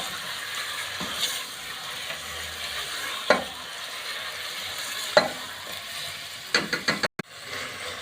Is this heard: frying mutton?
yes